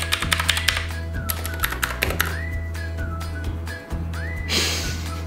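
Rapid clacky keystrokes on a custom mechanical keyboard, close and distinct, clustered in quick bursts with brief pauses, heard over a faint background hum.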